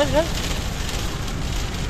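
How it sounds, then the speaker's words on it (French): Dense, steady pattering of hail on a car, continuous and close throughout, with a brief faint tone at the start, during a thunderstorm. "il grêle un peu"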